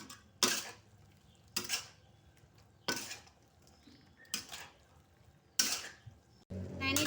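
A spatula scrapes and clanks against a pan while a genjer stir-fry with shrimp paste (tumis terasi genjer) is tossed. Five or six sharp, evenly spaced strokes land about once a second over a quiet, low kitchen hum.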